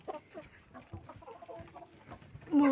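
Tiger breed hens clucking in a backyard coop, several short soft clucks scattered through the clip, with one louder, nearer cluck or call at the very end.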